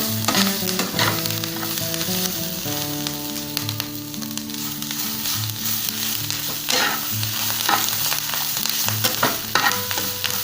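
Fresh curry leaves fry and sizzle loudly in a pan for a curry leaf thuvaiyal while being stirred, the crackling hiss continuous and close, with occasional scrapes of the spoon and a low steady hum underneath.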